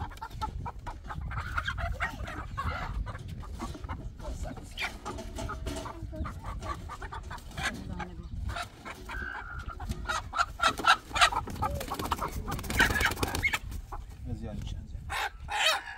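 Chickens cluck on a farm, a steady busy murmur of hens with some rooster-like calls and human speech mixed in at moderate loudness throughout.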